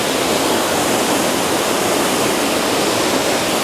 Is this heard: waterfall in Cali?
yes